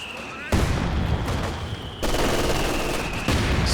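Sustained machine gun fire in Company of Heroes 2, a dense continuous rattle of rapid shots with sharp bursts restarting, loud and close, mixed with game battle noise.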